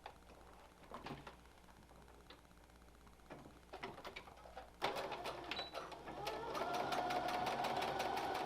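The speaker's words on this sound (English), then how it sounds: "I sew about 2 or 3 different, maybe 4 times across the elastic." A sewing machine stitches back and forth across elastic on a fitted fabric mask, its rapid mechanical whir starting and stopping in short runs, then running steadily and louder for several seconds.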